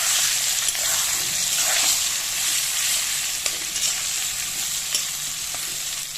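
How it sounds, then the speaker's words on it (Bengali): Steady, dense sizzling of potato and green plantain frying in hot oil, continuous and close, with a few faint scrapes and clicks and no talking. "ভালো করে আলু আর কাঁচকলাটাকে ভেজে নেবো"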